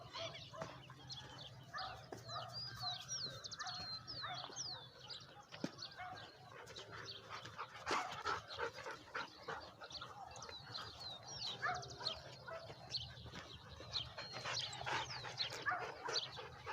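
A dog barks and whimpers outdoors on a walk toward a river, short yaps scattered over a constant bed of chirping birds and fluttering pigeons, fairly distant and soft.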